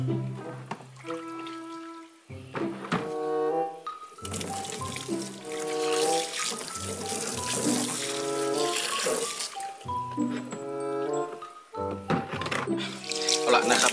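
Water runs and splashes while an alligator snapping turtle's tank is rinsed clean, a continuous gushing spray heard under a voice and steady tonal sounds throughout.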